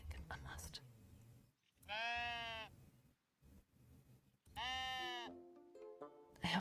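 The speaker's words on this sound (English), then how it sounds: "I hope the sheeps aren't too loud." Sheep in the cozy building game Tiny Glade bleat loudly twice, each a long wavering baa, with a quiet gap between them and soft game ambience around.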